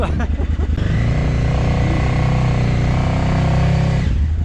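A KTM motorcycle engine revs loud and close, climbing into a steady high-pitched roar before cutting off abruptly.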